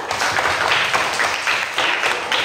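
A classroom of students claps together for a correct answer during a religious studies lesson, with loud, close, brisk hand claps in short rhythmic bursts.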